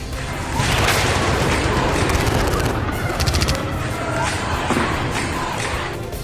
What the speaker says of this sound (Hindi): कुछ पत्रकारों के कैमरे में जेल की आग और फायरिंग की आवाज रिकॉर्ड हो गई